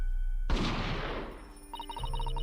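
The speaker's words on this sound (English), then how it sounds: "a gunshot rang out from over his shoulder" A single loud gunshot in The Great Ace Attorney Chronicles bursts out over a musical background and decays over about a second, followed by ringing tonal game music.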